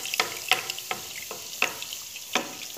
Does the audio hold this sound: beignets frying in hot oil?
yes